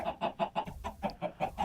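Minecraft chickens clucking in quick, evenly spaced bursts, about ten short clucks in under two seconds, moderately faint with no talk.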